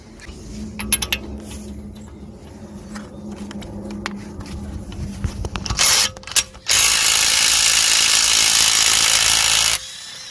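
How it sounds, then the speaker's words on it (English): A 27mm bolt on a Seat Altea front strut being undone during coil spring replacement. Rapid ratchet clicks and metallic tool clinks come first, then a loud sustained whirring burst like a power tool, close up with no talking. "So now we're gonna undo this bolt here. This is a 27mm bolt."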